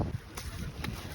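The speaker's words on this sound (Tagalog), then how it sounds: "mahangin sobra" Strong wind during a wet snowstorm in Toronto buffets the microphone in low rumbling gusts, with a couple of brief bursts of rustling noise in a short stretch.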